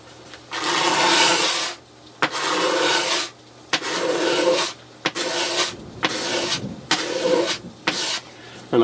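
A hand scraper is pushed across a wooden surface being refinished, taking off high spots, in repeated rasping strokes of one to two seconds, close and fairly loud, separated by short pauses.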